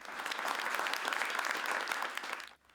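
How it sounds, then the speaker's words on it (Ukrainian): Government officials in a Ukrainian cabinet meeting hall give President Zelensky a standing ovation, sustained dense clapping from a room of people that fades out at the end. "Президента Зеленського урядовці зустрічають стоячи та тривалими оплесками"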